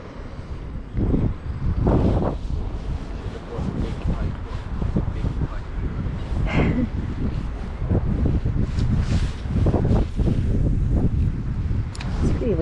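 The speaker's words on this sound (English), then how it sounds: "It's pretty windy out here." Strong wind buffets the microphone in gusty, rumbling bursts while street fishing in Amsterdam, with someone talking intermittently over it outdoors.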